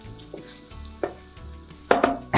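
Tomatoes dropped into hot rasam tempering give short sizzling bursts and stirring noises, close up, with brief sharp flares of frying between quieter stretches.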